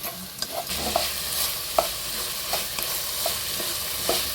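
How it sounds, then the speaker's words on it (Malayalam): A spoon scrapes and stirs chicken curry masala with curry leaves and rock salt in a sizzling pan, irregular clinks and scrapes over a steady low frying hiss, close and alone without talk. "എന്നിട്ട് നമുക്ക് നന്നായിട്ട് മിക്സ് ചെയ്യാം"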